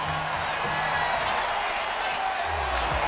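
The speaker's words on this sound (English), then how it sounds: "David Ross leads the cheering section." Baseball crowd at a Chicago Cubs playoff game roars in a dense, steady wash of cheering and clapping, loud and continuous throughout.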